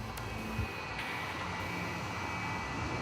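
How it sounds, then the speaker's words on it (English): Steady, moderate drone of a taxiing jet aircraft at Atlanta's Hartsfield-Jackson airport, a continuous broadband engine rumble with a faint high whine and no talking. "the taxiing aircraft is below the level of the runway"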